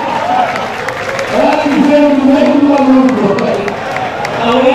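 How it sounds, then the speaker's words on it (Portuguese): Audience applause at a stage show, a steady wash of clapping and crowd noise rising and falling, with a voice and some music faintly underneath. "Salve de palmas."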